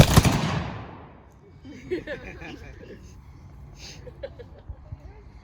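A sharp, loud volley of muskets fires on command at a historical reenactment at a South Carolina state park, one big blast trailing into a long echo, followed by quieter scattered crackles.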